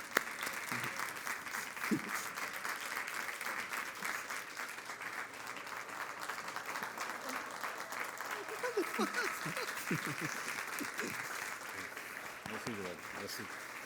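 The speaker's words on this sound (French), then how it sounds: "Est-ce qu'on peut leur donner une bonne main d'applaudissement?" A church congregation applauds steadily for nearly fourteen seconds, a continuous roar of clapping with individual claps poking through while voices talk and call out underneath.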